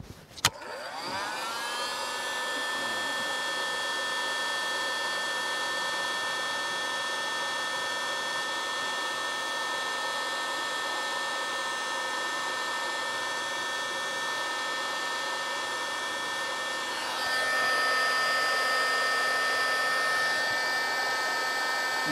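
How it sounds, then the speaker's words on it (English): A heat gun blows with a steady, loud whirring hiss while shrinking heat shrink tubing on a wire during collision repair on a 2003 Holden VY Storm ute; it starts abruptly and the tone shifts slightly near the end. "And then we've just got to set our heat shrink."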